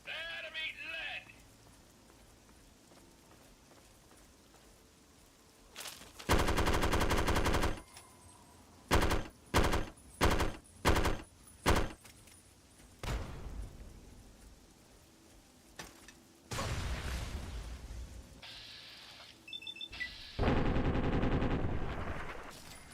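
Automatic gunfire from Fallout 3 erupts in loud, separate bursts: a long volley, then a string of short rapid bursts, then more sustained fire, with quiet gaps and a voice talking in between.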